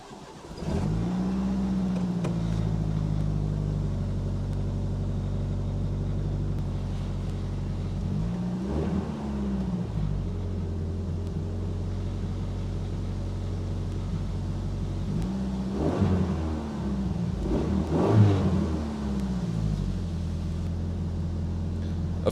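1980s Dodge Lancer sedan cranks and fires, then settles into a steady close idle with several distinct revs rising and falling across the stretch, no voices over it.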